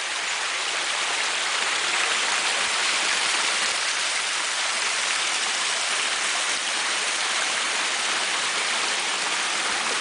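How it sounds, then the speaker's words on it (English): A cascading waterfall roars in a continuous, dense, even rush of falling water, close and steady throughout with no voices. "this is the Cascading Waterfall here."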